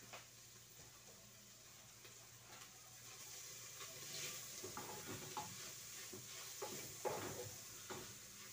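Onion and garlic fry in a little oil in a pan, a steady soft sizzle with stirring scrapes and clinks picking up toward the end.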